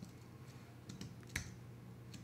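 A computer keyboard being typed on while coding HTML and CSS, giving a few sharp, close clicks spaced irregularly over a low steady hum, with no talking.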